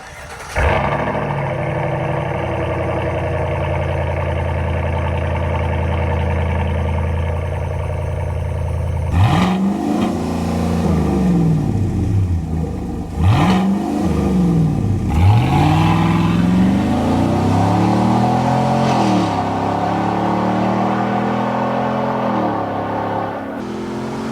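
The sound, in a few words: Chevy Silverado 5.3 V8 exhaust revving with X-pipe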